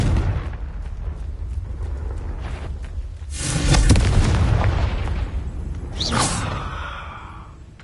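In Hogwarts Legacy, a Confringo fire spell bursts into a loud, sustained roaring blast midway, over a low rumbling background, with a swishing flare trailing after it and no talking.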